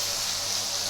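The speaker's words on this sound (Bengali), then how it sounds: "এই যে বাটি ধোয়া জলটা আছে, এটা কিন্তু আমি এর মধ্যে দিয়ে দেবো" Bowl-rinse water poured into a hot pan of fried aar fish for a Bengali fish curry with peas brings a brief, loud hiss and sizzle of steam. The sizzle is steady and close, with no voices over it.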